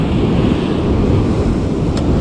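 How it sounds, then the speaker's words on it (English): Ocean waves surge against the rocks of a Wollongong rock-fishing spot, a loud, close, rushing wash of surf roaring continuously with wind buffeting the microphone. "Big wave just came"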